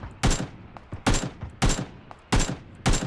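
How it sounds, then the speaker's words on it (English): Gunfire in PlayerUnknown's Battlegrounds sounds as a series of sharp, loud cracks in uneven bursts, about five main shots with fainter ones between them and nothing else around them. "What is that gunshot I'm hearing?"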